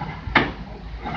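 A wooden door on a restored Zenith 16-A-63 Stratosphere radio cabinet makes a single sharp knock as it shuts, over a low background hum.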